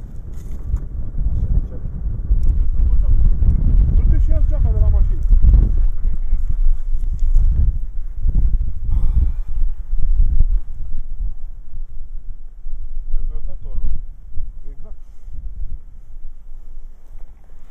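Strong gusting wind on the Transalpina mountain road in Romania buffets the microphone with loud low rumbles, fading and swelling over time, while people talk intermittently underneath.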